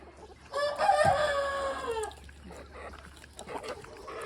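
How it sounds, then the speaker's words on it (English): A rooster crows loudly and close at a goat show, one long harmonic call lasting over a second, followed by softer clucks and barnyard chatter. "We've got a lot of roosters."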